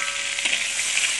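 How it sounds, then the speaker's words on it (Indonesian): Salted fish frying in hot oil in a pan, a steady close sizzle and crackle running throughout with no voices. "kita goreng ikan masin sampai dia kuning ya kawan-kawan"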